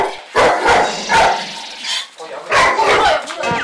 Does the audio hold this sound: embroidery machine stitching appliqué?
no